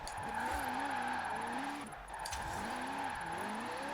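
A high-revving engine in an Aussie GTS saloon in Forza Horizon 4, held near the limiter with wavering pitch sweeps as the wheels spin, loud and continuous with a brief dip midway.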